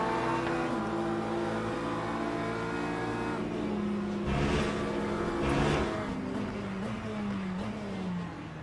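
Race car engines roar in the Le Mans Ultimate sim racing game at a green-flag start beside a Porsche, a loud sustained drone with shifting pitch as engines rev and other cars surge past.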